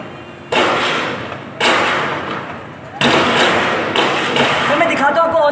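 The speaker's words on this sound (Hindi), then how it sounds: "सर मेरे सामने गोलियां चल रही हैं" Several loud sharp gunshots ring out at irregular intervals during an armed attack in Pakistan, each followed by a decaying echo, with a voice faintly underneath.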